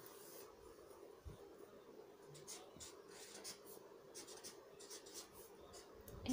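A pen writes by hand on paper, a faint, close scratching with short strokes and brief pauses over a low steady background hiss.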